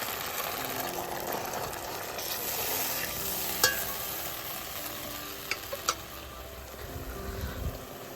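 A paste of ginger, chilli, onion and garlic with beaten yogurt fries in a pan over a wood-fired clay stove, giving a continuous close sizzle broken by a few sharp spoon clinks against the pan.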